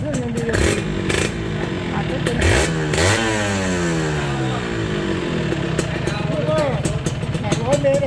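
A Serpico SE98 two-stroke motorcycle engine runs and revs nearby, with buzzy rising and falling pitch sweeps and a steady idle under ongoing talk in Thai.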